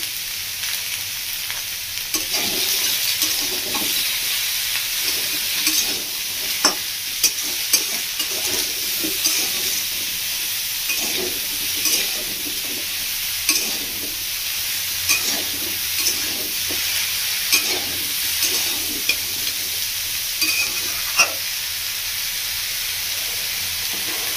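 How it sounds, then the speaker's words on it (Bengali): Mixed vegetables with drumsticks and salt are stirred in a hot pan, a steady hissing sizzle with repeated scraping strokes of the spoon throughout and occasional sharper clinks against the pan. "3-4 মিনিট মতো সবজিটাকে ভালো করে নাড়াচাড়া করে নিয়েছি লবণ দিয়ে"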